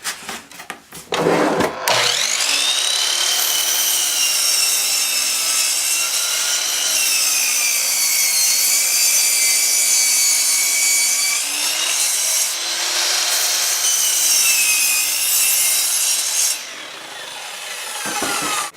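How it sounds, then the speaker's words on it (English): A hand saw cutting through wood for a seed-start plug board ejector, heard as one long, loud, continuous rasping stroke sequence close by, easing off near the end, with no one speaking. "So I'll get the saws all geared up and ready to go."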